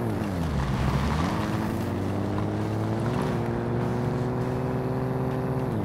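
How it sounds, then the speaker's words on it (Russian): A Mazda RX7 FD3S with its rotary engine is driven in a video game, its droning buzzy engine note climbing in pitch through a gear change and then holding steady and loud, with no talking. "Такой своеобразный звук двигателя."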